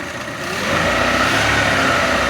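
Chevrolet Optra engine idling steadily after a fuel pump replacement, a continuous smooth hum that grows slightly louder after the first half second and holds even, with no talk.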